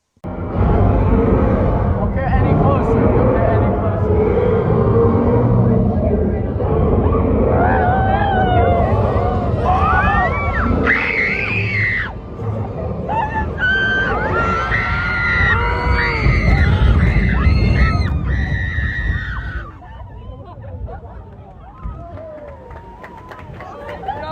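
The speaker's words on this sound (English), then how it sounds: "here you can listen to the audio of me going down the 30-foot drop on the Jurassic World ride" Screams and yells from riders plunging down the 30-foot drop on the Jurassic World ride at Universal Studios, loud and sustained against rushing wind and water noise, then easing off toward the end.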